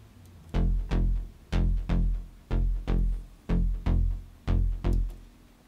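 Deep synth bass notes in a steady repeating pattern, each a full, bright sustained hit with an open, buzzy tone, played alone.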